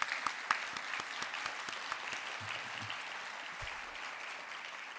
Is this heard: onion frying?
no